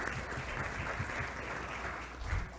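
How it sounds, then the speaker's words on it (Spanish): An audience at a political forum gives sustained applause, a dense, steady wash of clapping at moderate loudness that swells briefly near the end, with no voices heard over it. "fuerte voto de aplauso también"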